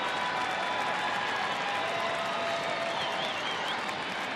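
A crowd at a Angels versus Rangers baseball game at the Texas stadium roars and claps in a dense, continuous wash of cheering that holds at a steady level throughout.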